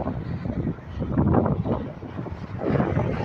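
Strong summer wind gusting across an open field in the San Joaquin Valley on a kite-flying day, a steady roaring buffet on the microphone that swells and eases.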